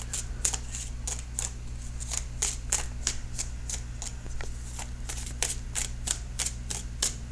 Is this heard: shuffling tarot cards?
yes